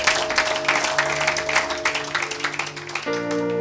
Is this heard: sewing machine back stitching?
no